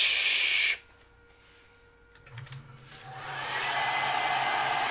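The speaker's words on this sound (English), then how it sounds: "She hasn't heard the air dryer yet." A hair dryer blows with a loud, steady hiss, cuts off abruptly, then after a quiet pause whirs back up and runs steadily again at close range.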